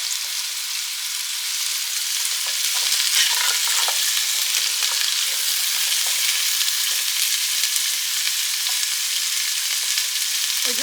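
Carrots with sliced onion and peeled garlic cloves cooking in a pan for pickled carrots, a loud, even, hissing sizzle that holds steady from start to finish, close up and with no voices.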